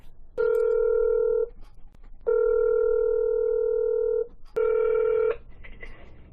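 Ringback tone of an outgoing telephone call to a county prosecutor's office in Williams County, Ohio: three long, loud, steady tones separated by short pauses, with no talking.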